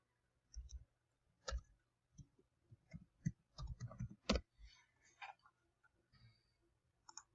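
Keys on a computer keyboard are pressed one at a time in an uneven run of close, quiet clicks and taps, with short pauses between them and no voices.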